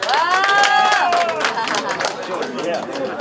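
Crowd applause and cheering greet a politician at a Korean political rally, dense clapping and voices filling the space loudly and steadily, with a few whistle-like tones rising over the noise near the start.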